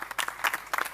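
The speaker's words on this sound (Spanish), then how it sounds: "Un fuerte aplauso para Airam." Audience applause at a sport and health round-table event, a short burst of scattered clapping heard up close for about a second.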